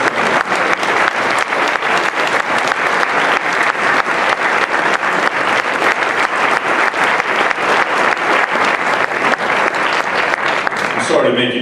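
Audience at a Veterans Day speech applauds veterans with steady, dense clapping that runs loud and unbroken for about eleven seconds before tapering at the end.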